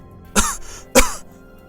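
A man gives two harsh, throaty coughs about half a second apart, close and fairly loud, each followed by a brief raspy tail, with no talking.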